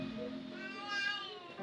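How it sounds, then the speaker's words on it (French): A cat's drawn-out meow, a single moderately faint wavering call that swells in the middle and fades, set against low background hum with no clear talk. "C'est le chat."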